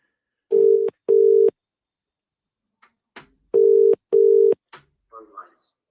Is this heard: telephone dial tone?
yes